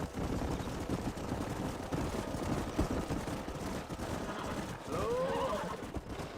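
In the Red Dead Redemption video game, horses shift and stamp on the ground while one whinnies briefly near the end, set against a low bed of outdoor ambience.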